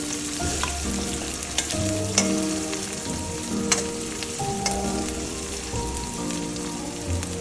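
Onions frying slowly over low heat after cumin seeds, a steady crackling sizzle like light rain with occasional clicks of a spoon against the pan, close and unbroken, no speech.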